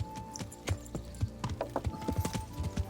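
Horse hooves clip-clopping at a steady walking rhythm from Pebbles, a male horse in the medieval game Kingdom Come Deliverance, each footfall close and distinct with no voice over it.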